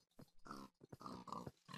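Pigs in the Minecraft video game grunt in several quick, close oinking bursts of uneven length, separated by short pauses, with no talking over them.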